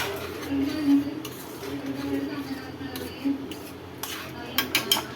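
A spoon stirs and scrapes around a pan of tomato pickle, with a few sharp metallic clinks near the end over a low background hum.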